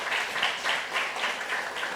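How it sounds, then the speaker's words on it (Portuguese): An audience claps together in a steady burst of applause that runs for a couple of seconds, moderately loud and fairly close. "A salva de palmas aí para quem falou mudanças climáticas"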